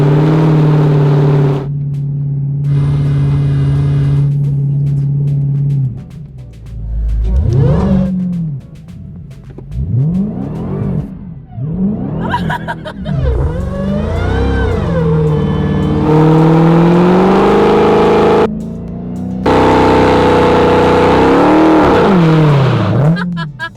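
A Dodge Hellcat Redeye lays down a burnout, engine revving hard in repeated surges and bursts with rising and falling pitch, while people talk and shout over the roar at close range.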